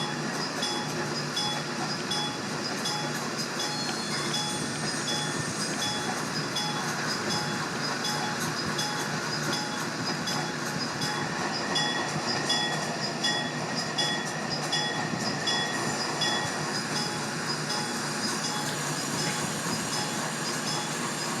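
A Conrail TMCR-840CW locomotive runs in the Trainz railroad simulator with a continuous dense rumble of engine and rolling wheels, a faint steady high whine over it, and light clicking along the track, even and unbroken.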